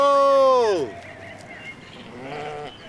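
Sheep bleating loudly while being herded on a farm, one long wavering bleat up close followed by a fainter second bleat over quiet outdoor background.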